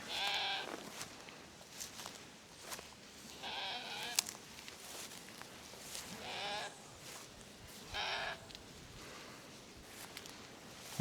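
Sheep on a farm on a hot day bleat in short calls spread across the stretch, distant and faint over steady outdoor background noise.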